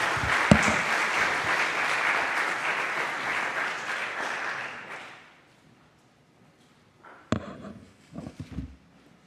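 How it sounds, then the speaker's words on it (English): An audience at a security conference in Berlin applauds a speaker, loud sustained clapping from many hands that fades out over about five seconds, followed by a quiet stretch and a few handling thumps. "So, round of applause for Billy."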